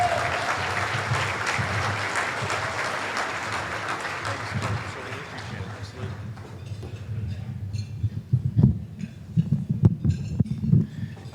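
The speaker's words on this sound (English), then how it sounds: "Please give him a round of applause." Diners at a county Lincoln Reagan political dinner clap in a round of applause for an endorsed candidate, dense at first and gradually thinning out, with low rumbling room noise and scattered thumps toward the end.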